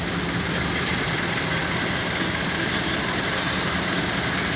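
Heavy road traffic at night near a bridge, a dense, steady rumble of engines and tires with a faint high whine, continuous and loud, without talk.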